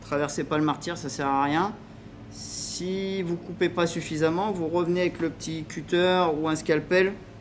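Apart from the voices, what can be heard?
No distinct noise like a dog, phone or traffic.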